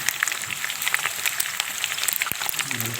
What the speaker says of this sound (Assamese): ইফালে পকোৰা ভাজি আছে।